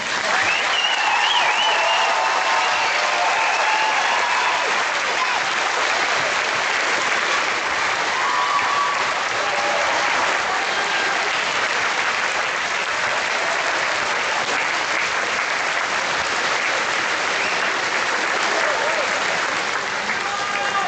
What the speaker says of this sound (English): Please join me one more time in honoring all of our singers with another round of applause.